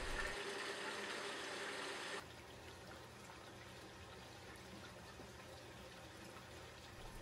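Water fills a 265-gallon aquarium's filter and runs into the secondary drain, a steady, close rush of flowing, trickling water that drops to a quieter, even stream partway through.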